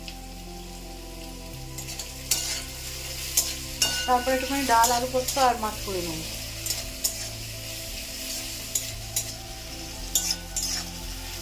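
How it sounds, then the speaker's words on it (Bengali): Potatoes fry and sizzle in a pan as they are stirred, a steady crackle beneath someone talking, with scraping strokes and a louder burst of stirring partway through. "সকাল সকাল এসেই আগে আলু ভাজাটা বসিয়ে দিয়েছি"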